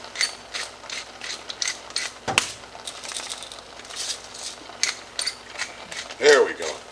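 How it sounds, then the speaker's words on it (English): A pepper mill cracks fresh pepper over pork belly being prepared for a wellington, giving a close, rapid series of ratcheting clicks and gritty grinding bursts repeated through the clip, with a brief clatter midway. "a little fresh cracked pepper"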